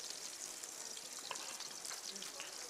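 Steady, fairly quiet sizzling of Kobe beef meatballs frying in a nonstick pan, with faint crackles throughout and no voices.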